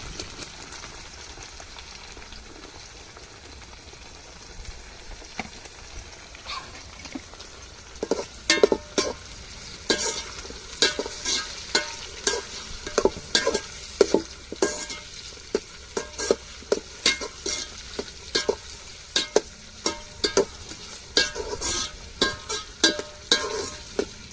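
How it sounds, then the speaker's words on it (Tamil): Tomatoes and onions sautéing in a pan for quail biryani, a steady low sizzle with stirring scrapes and clinks of the utensil that grow busier and louder in the second half, with no talk. "நம்ம கட் பண்ணி வச்சுருக்க தக்காளியை சேர்த்து வதக்கி விட்டுக்கிடுவோம்"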